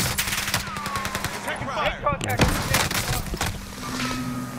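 Bursts of automatic gunfire and single shots in Call of Duty Warzone Pacific, crackling steadily through the clip with a player's voice talking over the shooting.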